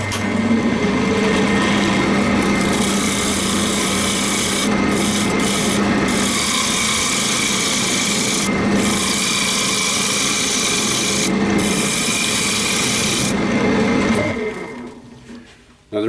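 A wood lathe spins an off-centre bowl held in an eccentric chuck while a turning tool takes a skim cut, giving a loud continuous rasping scrape with brief breaks, then winding down near the end.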